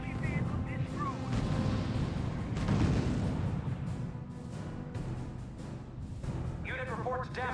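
Artillery barrage in the WWII strategy game R.U.S.E., with a dense rumbling bed of booms and blasts continuing for several seconds, while a voice talks over it.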